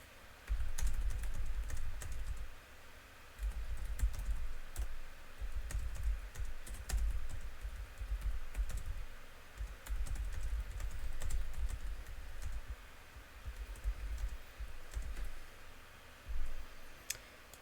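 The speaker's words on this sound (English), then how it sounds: "Just typing in the instructions." Steady typing on a computer keyboard, with dense rapid key clicks in bursts and short pauses, close and clear with no talking.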